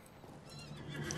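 A horse in the online game Lord of the Rings Online whinnies close by while hooves clip-clop beneath it, a brief, clear burst with no talking.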